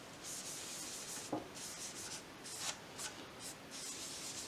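A fabric-and-cotton cloth pad rubs oil onto an apple wood bowl in French polishing strokes, giving a steady, close, soft swishing in repeated passes with no voices.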